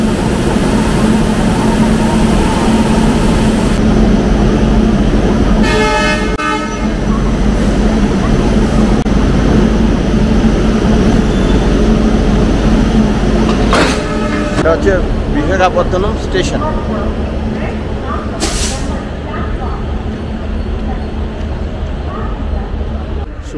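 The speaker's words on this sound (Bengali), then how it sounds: "বিশাখাপত্তনমে কিন্তু ইঞ্জিন চেঞ্জ হয়, সেটাই এখন হচ্ছে।" A locomotive engine change on a train at Visakhapatnam station. A steady, loud, low diesel-like rumble with heavy mechanical drone carries through the whole stretch. A voice talks over it, with brief clanks and hisses near the end.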